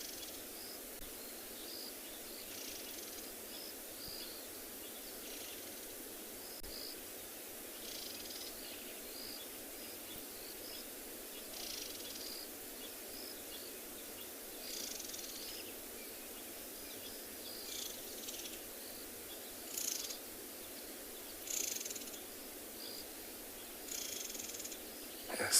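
Birds calling at sunset in the Kalahari at Tswalu on safari, a steady wash of faint, distant chirps and insect-like trills over a quiet background, with a few louder bursts near the end and no talking.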